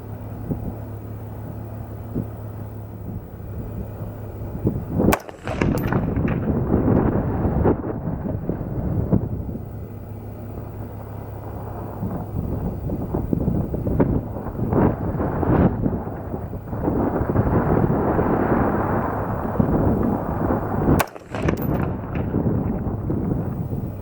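Two sharp, loud rifle shots from a Bear Creek Arsenal .224 Valkyrie upper, roughly sixteen seconds apart, fire toward a silhouette target at 300 yards on an outdoor range under steady wind rumble and handling noise.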